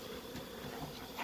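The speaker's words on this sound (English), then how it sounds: "See, there's bees right there leaking out." Honey bees escaping around beehives during a honey harvest make a close, continuous buzzing hum that swells and fades as individual bees pass near, with no talking.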